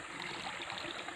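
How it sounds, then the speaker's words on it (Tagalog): Steady flowing stream water near waterfalls in Saudi Arabia, a continuous rushing trickle with no breaks, moderately close and fairly quiet. "sa may umaagos na tubig na yan. Naririnig nyo ba yan?"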